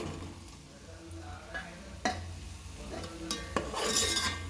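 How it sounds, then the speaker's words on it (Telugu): A spoon stirs egg biryani with boiled eggs in a pot, making soft scraping and occasional sharp clinks against the metal over a low, steady background hum. "బాగా కలపాలి ఇందులో ఉడికించిన ఎగ్స్ వేసుకోవాలండి"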